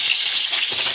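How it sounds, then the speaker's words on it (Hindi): Onion and green chilies hit hot mustard oil in a kadhai with a loud, steady, hissing sizzle that crackles close up for about a second. "इस कढ़ाई में हमने सरसों का तेल डाल दिया है। अब इसको छौंकेंगे"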